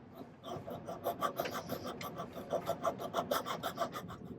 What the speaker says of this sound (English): Kind of like file down like that.